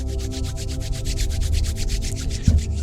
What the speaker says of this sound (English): you can rub your palms together